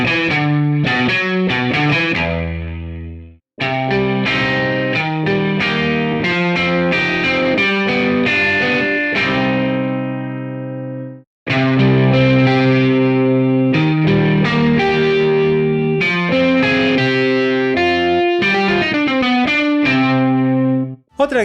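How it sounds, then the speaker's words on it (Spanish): Free virtual electric guitar instrument played through a virtual amplifier, heard alone as loud, distorted phrases with chorus-like effects, running in bursts separated by two brief pauses. "Escuchemos también esta guitarra con un amplificador virtual."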